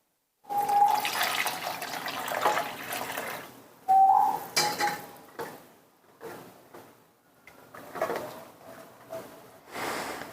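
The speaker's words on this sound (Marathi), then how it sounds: "ह्यामध्ये पाणी घालायचं आहे" Water splashes and gushes in uneven bursts into a pan of Rajasthani gatte curry with gram flour, stopping and starting several times, close and fairly loud.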